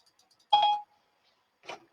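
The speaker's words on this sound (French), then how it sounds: "j'ai mon téléphone qui se déclenche en même temps" A mobile phone alert sounds indoors: two short electronic tones, the first a clear, bright beep lasting about a third of a second and the second a softer, fainter chirp a second later, in an otherwise quiet room.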